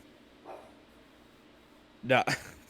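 A dog barks at the wind somewhere in the background of a podcast call, giving a faint yelp and then a louder double bark near the end, with talk running beneath it.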